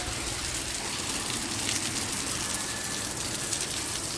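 Heavy rain pours down steadily in an outdoor village setting, a dense, continuous hiss of drops striking surfaces that stays loud and unbroken throughout, with no voices over it.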